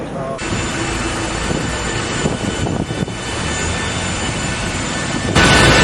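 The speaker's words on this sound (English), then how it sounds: "Here I am on my private plane" Steady, loud cabin drone of a private plane in flight bound for Warsaw, a broad continuous engine roar that holds evenly throughout and swells slightly near the end, with no talk.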